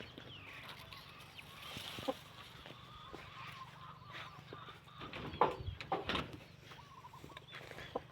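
Faint duck calls and a few honking squawks rise over quiet outdoor background noise, with louder bursts near the end.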